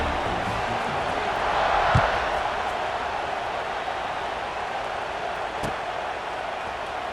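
In EA Sports College Football 26, a stadium crowd keeps up a broad, steady roar through a kickoff, a far-off wash of noise that swells slightly and then holds, with a few sharp knocks.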